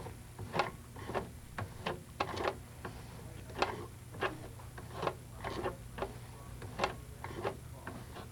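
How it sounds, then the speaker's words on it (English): A Brother overlock sewing machine, its hand wheel turned by hand, gives faint, steady ticking clicks about twice a second over a low background hum. "check your threading by turning your hand wheel in the counterclockwise position to make sure that your thread is"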